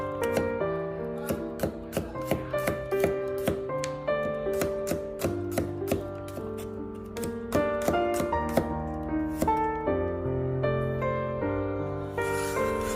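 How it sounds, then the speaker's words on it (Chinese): A knife thinly slicing four garlic cloves on a cutting board, producing a quick, regular series of crisp taps over a soft music backdrop. "将大蒜切成薄片。"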